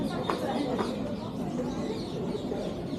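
Chickens and other caged fowl cluck and chirp at the bird market in Souq Waqif, faint and overlapping under busy crowd murmur and indistinct talking.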